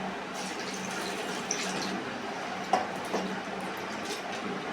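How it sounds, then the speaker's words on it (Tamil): Water splashes and pours while toor dal is washed and the rinse water is tipped away, a soft trickle with a few small clinks close by. "நல்லா கழுவி தண்ணியை கீழே ஊற்றி"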